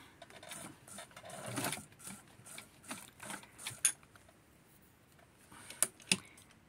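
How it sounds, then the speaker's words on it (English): Sewing machine stitching small pieces of fabric for a little doll dress, in short bursts of mechanical whirring broken by pauses, with a few sharp clicks near the end, close and fairly quiet. "So what I'm going to do is sew just a little bit more over here"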